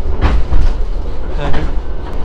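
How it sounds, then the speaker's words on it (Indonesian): Gajayana passenger train on the Jakarta to Malang line rattling over the rails, a loud continuous rumble with periodic clattering jolts heard from inside the carriage, with voices talking over it. "Yang pasti Gajayana masih gelodak-gelodak."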